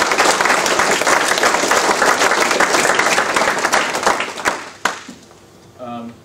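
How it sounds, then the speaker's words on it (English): An audience at a Knights of the Southern Cross gathering claps loudly for Bishop Peter Elliott, sustained applause that thins out and stops, followed by a brief voice. "we can give him another round of applause"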